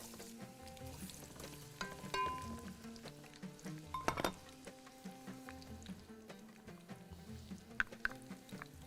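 Onions frying in a pan for Bahraini margog, a soft steady sizzle with stirring and scattered clinks of utensil against metal, fairly quiet throughout.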